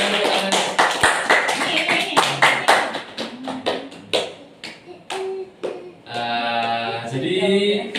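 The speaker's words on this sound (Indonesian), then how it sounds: "Berikan tepuk tangan." A class applauding in a classroom guidance session: uneven, fairly close hand claps that start dense and thin into scattered separate claps, with voices talking over the latter part.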